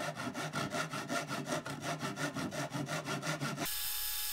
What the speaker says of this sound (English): The next step is to cut two long and thin wooden strips.